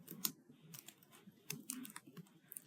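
Scattered keyboard typing while writing a heading in MS Word, irregular clusters of crisp key clicks close to the mic over a faint low background murmur.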